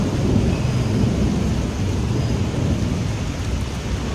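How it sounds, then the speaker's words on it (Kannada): Deep, rolling thunder rumbles continuously beneath the steady hiss of heavy rain, loud and sustained throughout. "ಸಿಕ್ಕಾಪಟ್ಟೆ ಗುಡುಗು ಮುಂಚೆ ಬರ್ತಾ ಇದೆ"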